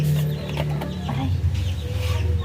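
A hen near her nest about to lay eggs clucks over a steady low background hum, close and fairly loud, with the calls running continuously throughout.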